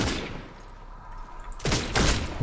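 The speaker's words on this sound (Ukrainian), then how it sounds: "О, як приємно стріляється. Взагалі круто, якщо чесно. А ну з пістолета." Pistol gunfire in the video game Redfall: after a quiet stretch of low ambience, a few sharp shots crack in quick succession near the end.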